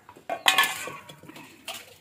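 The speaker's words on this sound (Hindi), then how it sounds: "मेरी ननंद बर्तन धो रही है" Dishes, pots and cutlery clink and clatter while being washed by hand in a home kitchen, a quick run of close, bright clinks with short pauses between them.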